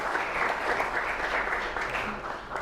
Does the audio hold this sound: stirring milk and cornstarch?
no